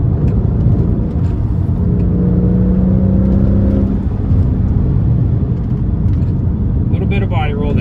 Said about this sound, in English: We're getting little pops right now in the exhaust. Accelerate out of the turn, and it feels planted.